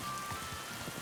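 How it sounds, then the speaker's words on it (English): Rain in the medieval video game Kingdom Come: Deliverance II falls as a soft, steady patter of drops, quiet and continuous with no voices over it. "Don't mind the rain"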